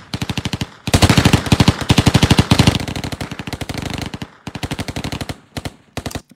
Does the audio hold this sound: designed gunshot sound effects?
yes